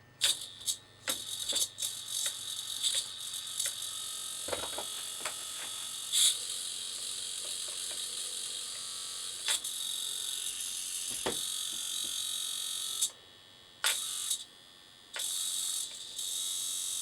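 A small RC servo motor whirs and ratchets in short bursts of gear noise while driving a fabricated air ride setup on a rat rod, close and fairly faint, with brief pauses between runs.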